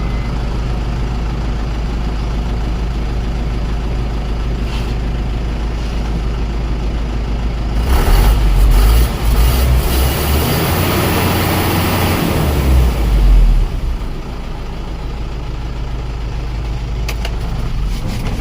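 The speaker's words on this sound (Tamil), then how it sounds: "வண்டியோட என்ஜின் கண்டிஷன் காமிக்கிறாங்க மிக தெளிவாக." Ashok Leyland Ecomet 1615 truck, a single-owner 2023-registered vehicle with a 20-foot body, idling with a steady low diesel rumble that swells louder twice midway, then settles back to an even idle, with no talking.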